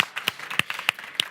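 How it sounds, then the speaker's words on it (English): Sparse handclaps at a conference session honouring the day's speakers on cross-border climate adaptation, about six distinct claps spaced irregularly over a second, fairly close and moderately loud, with no voices. "Maybe we can give them a round of applause."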